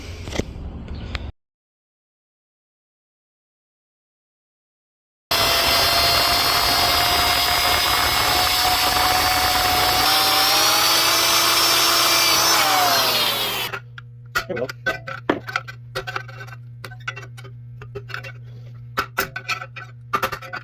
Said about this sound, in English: after drilling this spot weld out